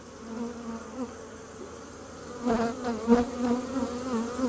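Honey bees in an opened queen-castle hive drone steadily, a close buzzing hum that swells louder in the second half as more bees lift into the air.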